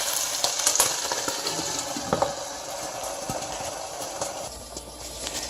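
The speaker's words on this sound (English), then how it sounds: "Alright, so we're cooking that. You can hear it sizzle." Chicken with Italian seasoning frying in a pan, a soft continuous sizzle with scattered pops and crackles at moderate level, no talking.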